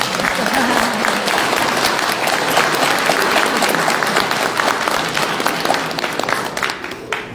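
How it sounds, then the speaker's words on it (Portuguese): Applause at a general assembly, the clapping of a crowd steady and dense across the room, then thinning slightly toward the end. "uma salva de palmas para vocês"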